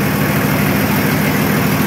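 Nissan Patrol diesel with a TD42 engine idles up close, a loud, steady low rumble and clatter running throughout with no talking.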